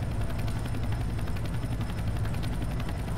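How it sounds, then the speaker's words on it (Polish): A helicopter approaches in the Counter-Strike video game, its rotor a steady, loud, rhythmic chopping thrum that fills the whole moment without any speech. "już tutaj dolatuje helikopter"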